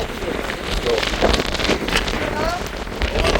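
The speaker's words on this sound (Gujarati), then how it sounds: "ઉભો રહેવાય એવો નથી પવન." Storm-force wind buffets the microphone on a high hilltop at Hanuman Dhara in Chitrakoot, a continuous roaring rush with gusty surges and rumbling bursts, loud and close, with a voice faintly underneath.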